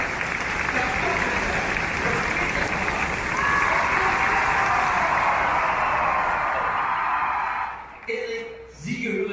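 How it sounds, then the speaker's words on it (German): A stunt show audience in the Vulkan arena at Filmpark Babelsberg, Potsdam, claps steadily for about eight seconds in a dense, even roar of applause, which breaks off into a few scattered claps and noises at the end. "Dazu ein Klatschen."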